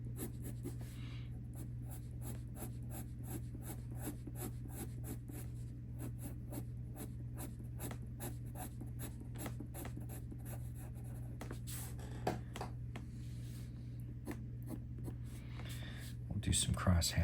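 A 2HB pencil cross-hatching on paper while sketching a portrait: steady, quiet, rhythmic scratching strokes repeated close up against a low background hum.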